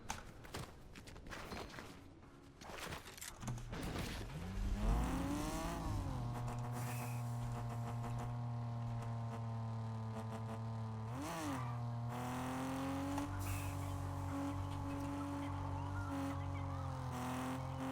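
A car in the Fortnite video game starts up and drives off-road with a steady engine hum that rises at the start and briefly revs again midway, loud and continuous with clatter from rough terrain.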